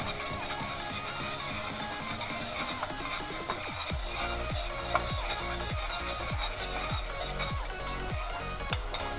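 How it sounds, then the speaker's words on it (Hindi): A masala for chicken pista korma, seasoned with coriander powder, salt and black pepper, is fried and stirred in a pan. Scraping strokes fall in a steady rhythm over a soft, continuous sizzle. "अभी इसको हम भूनेंगे।"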